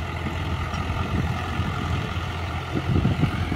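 A Mahindra 575 tractor engine runs steadily at about 1200-1400 rpm on a farm, giving a continuous loud, low diesel chug with a rhythmic knock that stays close and constant throughout.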